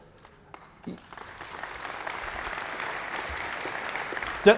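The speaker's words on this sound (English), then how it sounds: "Don't feel you have to applaud each time because it'll slow us down." Audience applause during a political party conference Q&A session with Ed Miliband: clapping rises from near silence and builds into a steady, moderately loud wash of many hands that continues to the end.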